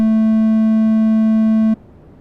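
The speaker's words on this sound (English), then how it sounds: "There's our high pass filter." A synthesizer tone passed through a high pass filter holds as one steady, loud buzzing pitch for under two seconds, then cuts off abruptly into near silence.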